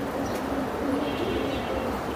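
Pigeons coo at a wholesale pigeon farm selling Giribaz and Pankhi breeds, a soft steady murmur of low cooing and faint bird calls filling the background throughout with no clear speech.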